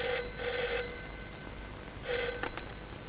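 An old landline telephone in an office rings in two loud electric bursts, a pair of rings separated by a pause, with no talk over it.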